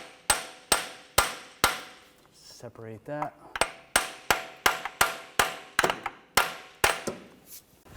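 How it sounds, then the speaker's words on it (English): Sharp metallic hammer taps on a front passenger-side CV axle bracket of a 2013-2019 Ford Escape 2.0L, about fifteen strikes in a steady rhythm, with a brief spoken remark partway through. "Now, just taking a hammer, just give it a tap."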